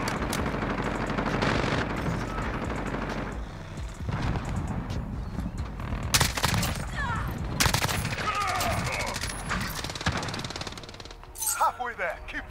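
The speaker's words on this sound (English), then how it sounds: "Enemy sentry gun" Rapid automatic gunfire from an enemy sentry gun in Modern Warfare, bursts of shots mixed with other battle noise and clattering, fairly loud and near, with game voice lines over it.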